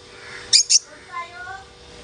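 A pet bird calls from its cage at home: two sharp, bright chirps close together, then a few softer warbling tones, with quiet room noise between.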